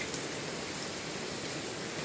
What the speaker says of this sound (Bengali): সন্ধ্যার পর বৃষ্টি, মাঝে মধ্যে বৃষ্টি হচ্ছে, এখনও বৃষ্টি হচ্ছে